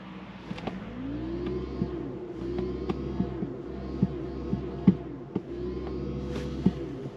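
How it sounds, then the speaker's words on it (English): A 2022 Mercedes-Benz EQS 580 electric car producing its synthetic drive sound in an altered tone, a low sustained hum that rises and swells in pitch several times with faint clicks, heard from inside the cabin, no talk. "Oh my god, now it revs in a different tone."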